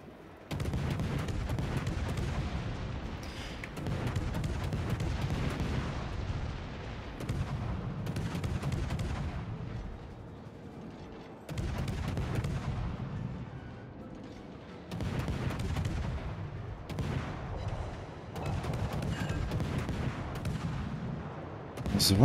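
Naval guns firing in World of Warships, ranked battle aboard the French cruiser Colbert: repeated bursts of booming salvos in clusters every few seconds, loud and dense with rumbling low end, no talk.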